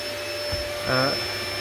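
A steady bee vacuum motor hums continuously, with a brief louder rush of suction midway as bees are sucked up from a kitchen beehive.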